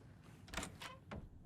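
A blocked door in the Alan Wake 2 video game gives a few quick, faint rattling thumps in close succession, with quiet gaps between them.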